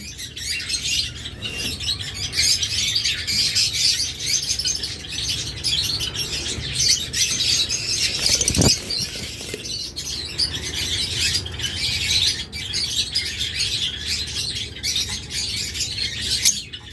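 A pair of blue mask lovebirds keeps up dense, shrill chirping and chattering close by, with a brief flutter of wings partway through.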